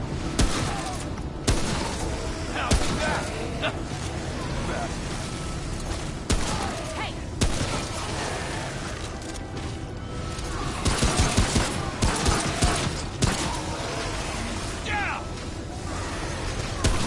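Rapid gunfire from a hunter rifle and other weapons in the video game Remnant From the Ashes, shots and bursts crackling steadily throughout a busy fight under game noise and a talking player.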